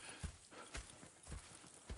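Hooves clip-clopping from horses in the Red Dead Redemption 2 video game, a soft, faint run of about six uneven thuds over two seconds with no talk.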